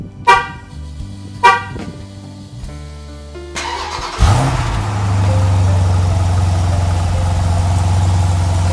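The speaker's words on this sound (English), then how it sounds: "Cold start the next day of purchasing my Jeep Grand Cherokee SRT." A 2017 Jeep Grand Cherokee SRT cold-starts after a couple of short chirps and knocks, its engine catching with a loud crank and flare around the fourth second, then settling into a steady, heavy, close idle.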